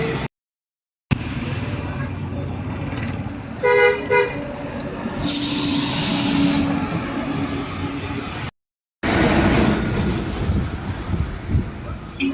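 A light rail train horn toots in a few short harmonic blasts amid steady rail and traffic rumble, with a loud hissing burst and a brief voice nearby.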